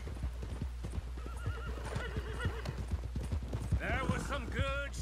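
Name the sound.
horse on road in Red Dead Redemption 2 video game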